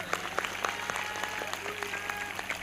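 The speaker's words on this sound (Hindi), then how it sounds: "इस भविष्यवाणी के पूरा होने के लिए जोरदार ताली बजाएंगे।" Audience clapping at an Easter church service, a moderate continuous patter of many hands with a few sharper claps standing out, steady throughout and without speech.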